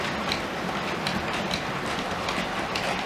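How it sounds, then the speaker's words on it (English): Model railway trains run on a layout in a steady quiet rumble with faint rhythmic clicks of wheels over rail joints, continuous and somewhat distant. "I've got both trains running"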